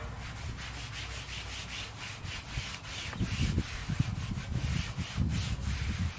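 A rag rubs wax onto a rusty metal lawn chair in soft, repeated scrubbing strokes, faint and close, with irregular swishes that grow slightly stronger partway through.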